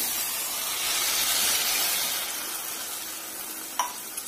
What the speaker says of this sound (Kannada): ಒಂದು ಹಾಫ್ ಗ್ಲಾಸ್ ಅಷ್ಟು ನೀರು ಹಾಕೋತಿದ್ದೀನಿ